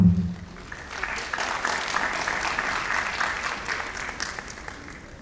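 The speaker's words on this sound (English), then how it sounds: "Can you all clap for your colleagues," An audience at a university convocation in Guwahati applauds graduates with steady, sustained clapping that stays fairly even in loudness across the whole span, with no talking over it.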